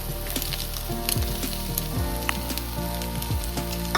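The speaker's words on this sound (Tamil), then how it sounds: "கேரட், பீன்ஸ், கொடமிளகா சேர்த்துக்கலாங்க." Onion, carrot, beans and capsicum fry with egg in hot oil for fried rice, a steady loud sizzle running throughout with a few scraping stirs of the spatula.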